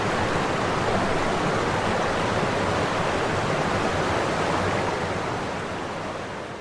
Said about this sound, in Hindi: पानी का संगीत इस कदर सुनाई दे रहा है कि आवाज तक नहीं आ सकती।